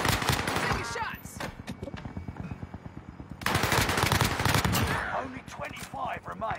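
Automatic gunfire in a squad-based online shooter game, rapid continuous bursts with a steady rhythm, loud and close, coming in two long strings with a short lull between them.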